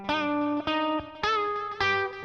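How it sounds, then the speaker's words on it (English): An electric guitar run through delay and reverb effects plays four sustained, ringing notes in a steady rhythm, each one decaying into a shimmering wash that overlaps the next, loud and close. "Need some delay and reverb."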